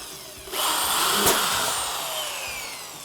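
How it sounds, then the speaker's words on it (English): A power drill whirs up loudly and runs continuously for a few seconds, boring a pilot hole into material, with no talking. "What you want to do is make a pilot hole with the drill bit."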